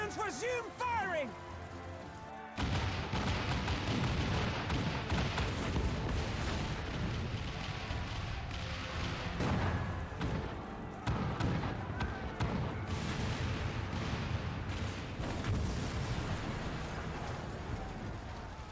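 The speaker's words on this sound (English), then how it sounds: "All cannons resume firing!" Cannon fire and explosions in the Final Fantasy XIV battle to free Ala Mhigo from the empire, a dense, continuous barrage of loud booms and rumbling blasts that starts abruptly and persists throughout, with voices briefly heard at the start.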